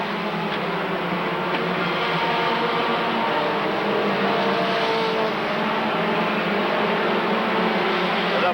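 Race cars of the field roar around the oval at Rockford Speedway, a dense, continuous engine drone filling the whole stretch without a break, loud and steady with no voices.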